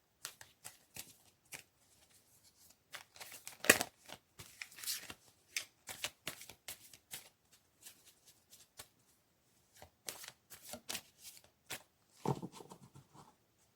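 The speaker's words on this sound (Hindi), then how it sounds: "एक बार मैं इनको अच्छे से शफल करूँगी" Tarot cards are shuffled by hand close up, giving quiet papery riffles and soft slaps in irregular bursts with short pauses between them and no voices.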